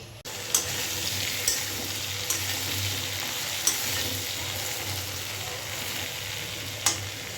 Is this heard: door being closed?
no